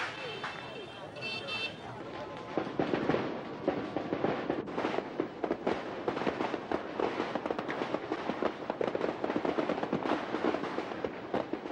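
Fireworks and firecrackers crackle and bang in a dense, continuous barrage around a lake at a Tet celebration in Hanoi, 1992, with rapid pops under a spoken voice and the hubbub of a crowd.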